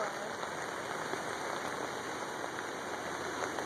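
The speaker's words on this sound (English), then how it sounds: "we want to play in the rain from the hurricane" Heavy rain from a hurricane pours down, a dense, even hiss of drops hitting surfaces, loud and constant throughout with no pauses.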